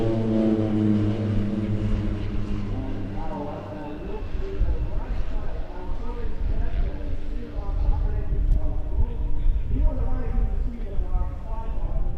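Propeller aircraft fly in formation at an airshow in Leszno, their engines a steady droning roar that swells and fades as they pass, with a commentator talking over them throughout.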